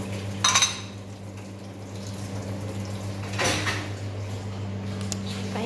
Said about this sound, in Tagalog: tapos na kaming kumain at magbubugas na si ate ng pinggan